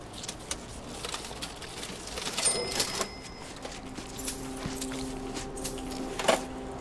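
Cash register being looted in the video game Dishonored 2, with clinking, ringing mechanical tones and a drawer-like rattle over busy ambient game sound, building to a brief louder jolt near the end.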